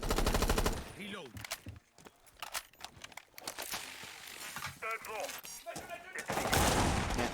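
Gunfire in a Rainbow Six esports match, bursts of rapid automatic shots and single cracks scattered across the clip, loud and close, mixed with game ambience and commentator chatter.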